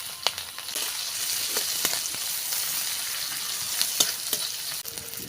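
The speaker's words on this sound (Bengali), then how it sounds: "পেঁয়াজটা হালকা ভেজে নিয়েছি।" Chopped onion with green chilli frying in oil in a pan makes a steady close-up sizzle, broken by scattered sharp crackles and scraping stirs.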